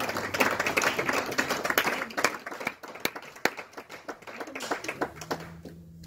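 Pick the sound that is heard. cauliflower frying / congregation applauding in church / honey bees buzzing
congregation applauding in church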